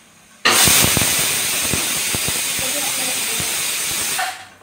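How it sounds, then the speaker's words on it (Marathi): A kitchen pressure cooker lets out a single whistle: a sudden loud burst of hissing steam that holds steadily for about four seconds, then cuts off abruptly. "कुकरची एक शिट्टी."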